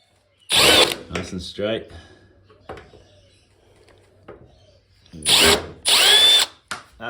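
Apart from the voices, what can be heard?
power drill removing screws from a Samsung TV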